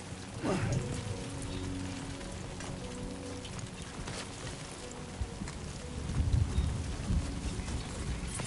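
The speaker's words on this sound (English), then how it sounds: "It's raining." Steady rain hissing over the ground in the Death Stranding 2 video game, a dense continuous wash with occasional heavier gusts and low rumbles.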